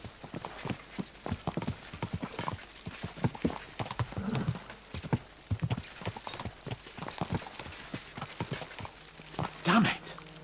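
Horses clip-clopping at a quick gait in Kingdom Come: Deliverance 2, a steady run of sharp, close hoof strikes with a brief whinny near the end and a voice talking over part of it.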